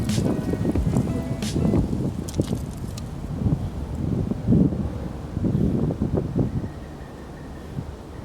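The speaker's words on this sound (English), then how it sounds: "The wind is really bad." Strong gusty wind blowing outdoors, buffeting the microphone with a loud, low rumble that rises and falls in uneven surges before easing toward the end.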